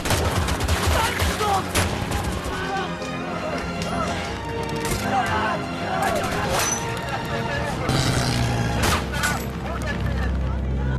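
Rifle fire and surrounding battle gunfire in a war film fight between Japanese and Chinese forces, a dense, continuous barrage with sharp cracks and crashes layered over chaotic background noise and voices.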